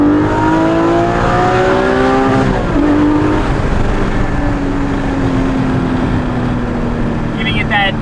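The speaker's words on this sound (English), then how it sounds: "That 981 type sound, it's way, way more exotic and more interesting than the factory exhaust." A Porsche GT4 fitted with a Valvetronic Designs exhaust and over-axle pipes revs loudly and close, pitch climbing through several rises before settling into a sustained high drone.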